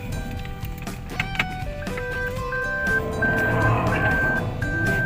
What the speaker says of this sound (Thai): ฟังเสียงนะ อาการโรคประจำตัวสำหรับพวงมาลัยไฟฟ้ารุ่นนี้นะ